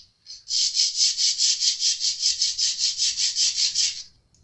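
An acoustic-electric guitar is worked over with coarse 80-grit sandpaper, giving close, rhythmic back-and-forth rasping strokes, about seventeen in a steady run of some four seconds, with no talking.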